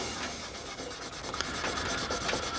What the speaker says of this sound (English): I'm just going to clean the fretboard